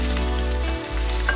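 Onion frying in a pan for an Italian spaghetti sauce: a brief, continuous sizzle with a steady low hum underneath, close and fairly loud.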